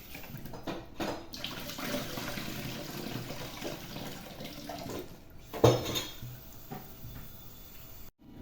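Food being rinsed in water in a kitchen, with running water and splashing under the clatter of dishes, a louder slosh around the middle, and no talking.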